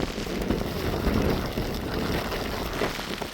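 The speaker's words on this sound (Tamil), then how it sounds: "பயங்கரமாக மழை அடிக்குது பாருங்க." Heavy rain pours down during flooding in Vaatharavaththai, Jaffna, with strong wind. It makes a dense, loud, continuous hiss and patter that stays close and steady throughout, with no talking.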